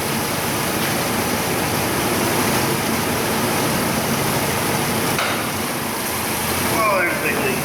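A vacuum leak at the PCV on a car engine gives a steady, loud broadband hiss under the idling engine, continuous across the whole stretch with a brief change near the end.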